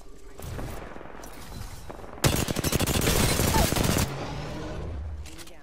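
A loud, rapid burst of automatic gunfire from pre-firing in Apex Legends lasts about two seconds and stands out over quieter game ambience that is present before and after it.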